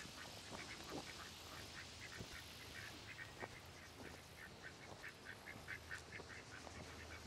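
Ducks quack repeatedly on a farm with chickens and turkeys, a busy flock of short calls scattered over steady outdoor background noise, moderately distant and continuous.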